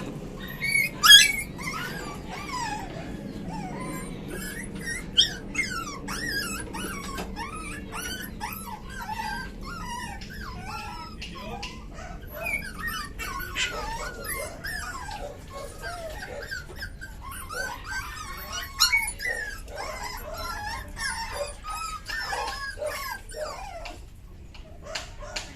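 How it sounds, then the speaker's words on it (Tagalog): Several dogs, tethered at feeding time, whimper and yip almost continuously at close range, with occasional growls and short barks mixed into the high, wavering cries. "Si Lips ang iyakin pag nakatali"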